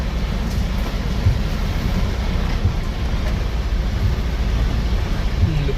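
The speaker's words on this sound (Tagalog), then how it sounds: "Uy, lakas ng ulan." Heavy rain pours steadily as a loud, dense hiss with a low rumble underneath, unbroken throughout.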